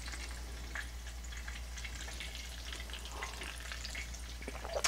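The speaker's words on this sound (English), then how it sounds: "Well, it's sizzling. Sounds and looks pretty good so far" Chicken-fried bacon sizzles steadily in a frying pan, a dense continuous crackle with faint pops, close by and without talking.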